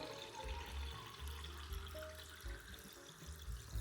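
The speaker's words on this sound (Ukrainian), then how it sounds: "Відкриваю водичку. У мене стакан, я вже знаю, стільки мені треба. Наливаю стакан." Water runs steadily from a tap into a glass, a continuous splashing flow close by with no speech.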